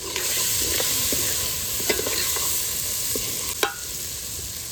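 Masala with coriander-cumin powder, salt, chili and turmeric stir-fried in a pan, a continuous soft sizzle broken by scraping strokes and a few sharp clinks of the spoon, with no one talking.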